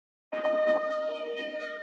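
A Playground playable-accents synth preset from the Circuits multi-kit plays a dry pattern with no effects, a bright shimmering tonal texture with pulsing accents that enters after a short silence and sustains steadily, with no talking.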